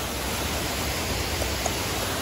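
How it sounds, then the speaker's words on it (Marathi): Water rushes down at Kamthe hidden waterfall near Chiplun, a steady broadband roar that stays close and unbroken throughout, with no talking. "अरे बघा इथं खाली पाणी निघून जातं."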